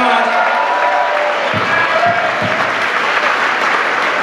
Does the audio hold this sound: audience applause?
yes